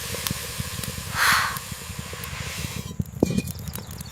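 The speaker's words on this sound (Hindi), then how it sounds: "करेले पकते हैं, भाप उठती है और जरीना ढक्कन उठाकर देखती है।" Steam rises from bitter gourds cooking in a covered pot in a miniature doll kitchen, giving one short, soft hiss amid faint clicks and small handling noises.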